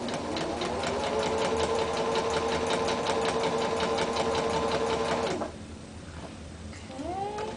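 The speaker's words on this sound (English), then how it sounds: "I'm going to go ahead and sew, and I'm going to do some back stitching at the front end as well as on the back end" A sewing machine runs in a steady rapid stitching burst for about five seconds while sewing a French seam at a 3/8 inch allowance, with back stitching, then stops, leaving quiet handling noise and a faint voice.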